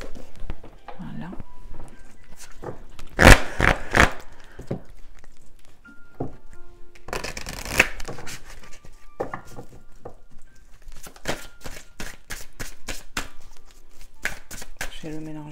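Archangel Michael oracle cards being shuffled by hand, with bursts of quick riffling and patting card sounds in several clusters, interspersed with someone speaking softly.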